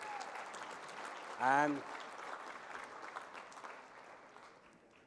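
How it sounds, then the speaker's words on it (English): An audience applauds presenters at the Le Vian 2019 Red Carpet Revue, a fashion and fine jewelry runway show. Steady, moderate clapping runs throughout, with a voice briefly speaking over it. "let's have another round of applause for all of our presenters"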